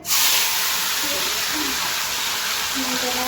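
Fish pieces frying in hot oil in a home kitchen give a steady, loud hiss and sizzle close by, continuous for the whole stretch with a faint background tone.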